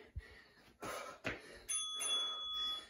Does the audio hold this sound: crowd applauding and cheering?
no